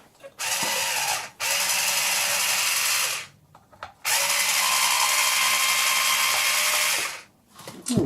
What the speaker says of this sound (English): let's undo some screws.